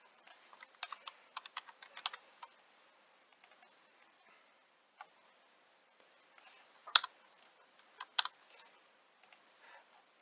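Quick bursts of typing on a computer keyboard, clusters of light clicks with short pauses between, close and fairly quiet in an otherwise silent room.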